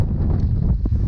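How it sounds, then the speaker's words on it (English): Strong wind blows across a lake during a fishing outing, a close, loud rushing buffet on the microphone with low rumble, steady for a brief moment with no speech. "Man, it's crazy windy out here."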